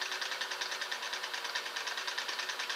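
A Singer 503A Special sewing machine runs steadily on a wide zigzag stitch, giving a fast, even mechanical whirring chatter with a regular pulsing rhythm, close and moderately quiet, with no voices.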